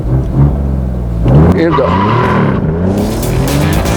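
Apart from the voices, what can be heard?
remapped Alfa Romeo Giulia Quadrifoglio accelerating on runway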